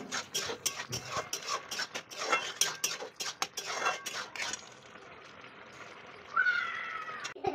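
A spoon stirring and scraping egg halwa with sugar in a pan, rapid clattering scrapes at first, then a softer steady rustle and a brief squeak, close by with no talk.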